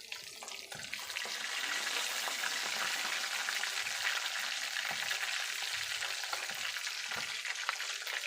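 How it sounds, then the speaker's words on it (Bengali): Fish roe fries in a hot pan in a home kitchen, giving a steady, bright sizzle that swells after a quiet start, with occasional soft stirring clicks and no talk. "সেই একই সাথে আরেকটা কড়াইয়ের মধ্যে মাছের ডিম ভেজে নেব।"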